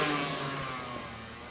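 A Honda CR85 two-stroke dirt bike revving hard during a wheelie, a brief raspy engine burst that fades slightly as it moves away.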